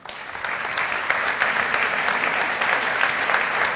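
An audience at a municipal awards ceremony for urban commerce claps steadily, a dense, even wash of applause sustained throughout at moderate loudness.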